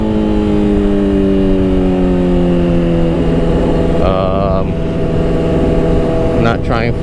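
A motorcycle fitted with a new chain and sprockets accelerates hard in third gear during a wheelie attempt, a loud, close engine note rising steadily, briefly dropping at a shift before climbing again, with wind roar throughout.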